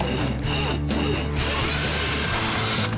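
A power drill bores through parts of a scissor lift prototype frame, a loud continuous whirring up close with brief pitch dips as the bit bites, with no talking.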